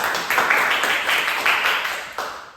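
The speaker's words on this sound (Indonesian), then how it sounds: "berdiri tepuk tangan buat kalian" A small classroom group claps during a microteaching session, the clapping coming in uneven, bright bursts that swell and fade several times, close and moderately loud with no talk over it.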